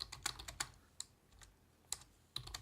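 Someone types a message on a computer keyboard: scattered bursts of clicky keystrokes with short pauses between them, close and fairly quiet, with no talking.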